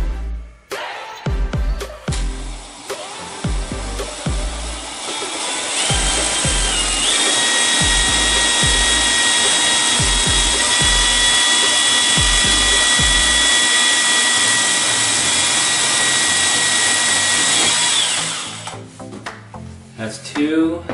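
A power drill boring a hole for mounting an IKEA cabinet door runs steadily for about ten seconds at close range, preceded and followed by short knocks and handling sounds.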